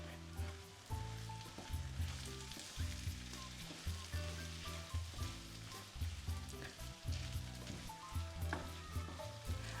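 Washed, well-drained rice sizzles and scrapes as it is stirred in a hot pan on the stove while making Greek dolmades yalantzi, a steady frying hiss with rhythmic stirring strokes throughout and no talking.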